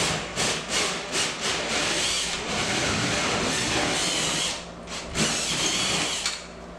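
A 1.5-inch hole saw cuts through drywall during floating shelf installation, a loud steady grinding drone that runs nearly the whole time with brief dips as pressure shifts, heard close and alone.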